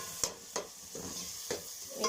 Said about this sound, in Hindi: इसको अभी थोड़ी देर हम फ्राई करेंगे